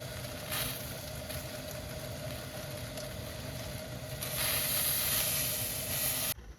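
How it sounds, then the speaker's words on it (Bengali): Water heating to a boil for tea gives a steady hiss and rumble, with a brighter, louder surge of steam toward the end before it cuts off abruptly. "জল ফুটে গেছে প্রায়, এবার চা পাতা দিয়ে দিলে হয়।"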